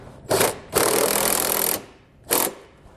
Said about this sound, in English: We'll use a 13mm socket to do so